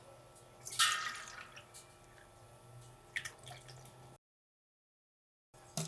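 Homemade soapnut herbal liquid detergent being filtered after cooling, with liquid dripping and splashing in two short bursts over a faint, quiet background, then a moment of silence.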